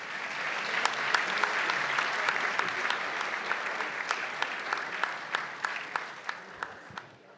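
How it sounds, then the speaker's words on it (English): An audience at the Ethnic Business Awards ceremony gives a full round of applause, a broad, even roar of many hands that thins toward the end into a few distinct louder claps. "How about another round of applause?"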